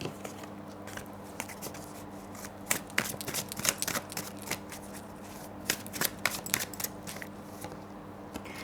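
Tarot cards shuffled by hand in a quiet room, a steady run of crisp riffling and snapping bursts repeating in close, fairly loud clusters with no talking.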